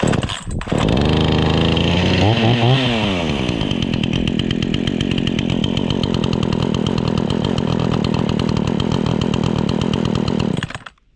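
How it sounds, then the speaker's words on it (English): A Craftsman S205 20-inch gas chainsaw roars to life close by, revs up and down a few times, then settles into a loud steady run before cutting off. "the 20-inch, the S205 chainsaw by Craftsman"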